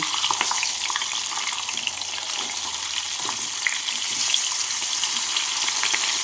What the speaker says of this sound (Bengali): লাল করে ভেজে নিচ্ছি